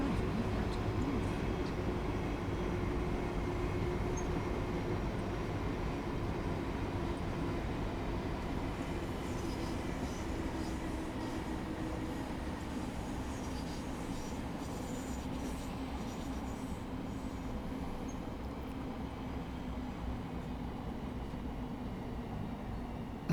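A South Eastern high-speed train in Train Sim World 5 slows while braking on the approach to Northfleet, giving a steady, loud low rumble of wheels and rails that eases slightly as speed drops, with no talking.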